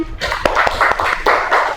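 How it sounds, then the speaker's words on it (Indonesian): A classroom of children gives a short burst of clapping after a lesson exchange, scattered hand claps close by with some voices mixed in, lasting under two seconds. "Oke, tepuk tangan."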